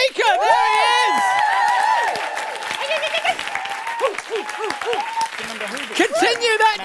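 Loud audience applause and cheering at a live improv comedy show, a dense sustained roar of clapping and whoops that thins out midway and swells again near the end, with a host's voice cutting in over the crowd.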